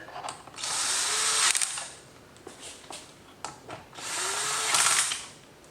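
A power tool drives bolts home while a fender eliminator is installed on a 2024 Yamaha MT-09. There are two whirring bursts of about a second each, separated by clicks and handling noises, heard close with no speech.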